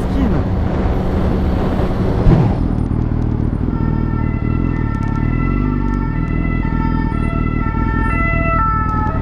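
A police vehicle siren on a road, a loud, steady sustained tone sounding continuously over road and engine noise, with a brief sharp knock early on.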